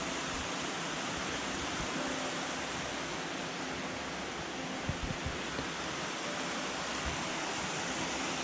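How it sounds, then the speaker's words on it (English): A small waterfall on a hiking trail in a mountain state park pours in a steady, even hiss of falling water, moderately distant and unbroken, with no voices over it. "It was a small waterfall, though it was still quite pretty"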